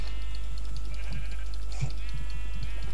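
Sheep bleat in a blocky survival video game, a few short nasal bleats over a loud steady low hum, close and distinct.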